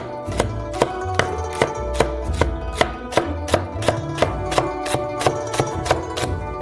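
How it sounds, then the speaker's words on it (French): A knife chops leeks into small pieces on a cutting board, sharp crisp knocks landing in a brisk, even rhythm, about two or three per second, close and clear. "Des poireaux, on les coupe dans le sens de la longueur. Et hop, on coupe comme ça en petits morceaux."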